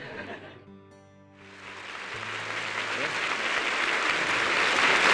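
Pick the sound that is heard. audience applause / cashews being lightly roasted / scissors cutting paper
audience applause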